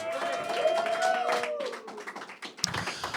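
An audience at a Montpellier Ableton User Group live remix and audiovisual event claps. A voice speaks over the start, then a burst of scattered hand claps rises and fills the room.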